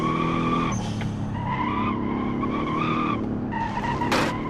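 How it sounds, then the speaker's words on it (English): Front-wheel-drive car in a racing video game on a jungle rock hillclimb, tyres squealing in sustained wheelspin over a steady engine drone, with a brief sharper screech near the end. "if this was a rear-wheel drive car, it would be facing the wrong way all the time with all that wheel spin"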